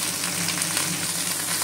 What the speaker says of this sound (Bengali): এগুলো এবার একটু ভাজা ভাজা করে নেব